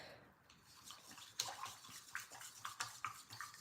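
A paintbrush is swished and tapped in a water cup, a quiet sequence of small splashes and clinks that starts faint and grows slightly busier near the end.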